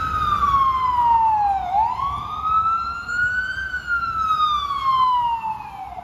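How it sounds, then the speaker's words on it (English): A loud wailing emergency vehicle siren close by on a Manhattan street at New Year, its pitch sweeping down, rising, then slowly falling again over a few seconds. "That siren is a lot louder than it should be."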